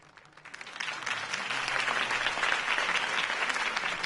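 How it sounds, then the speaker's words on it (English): Crowd applause for Harvey Dent's campaign speech in the Telltale Batman video game, swelling from quiet to a full, steady roar of many clapping hands that holds to the end. "If only Mr. Wayne, my campaign's largest backer, could have heard that applause"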